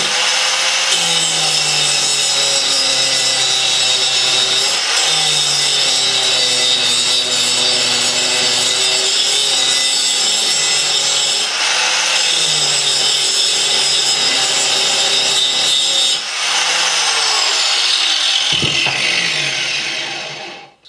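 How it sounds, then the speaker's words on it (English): Steady, loud bench grinding of a steel farrier's rasp being shaped into a knife, with a continuous high metallic grind whose pitch shifts as pressure changes, running alone for about twenty seconds before winding down. "I'll show you a small video of the grinding"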